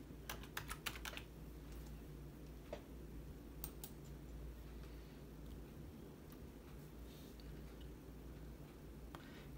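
Typing on a computer keyboard: a quick flurry of clicking keystrokes at the start, then scattered, lighter taps over a low, steady room hum, fairly close and quiet, with no voices.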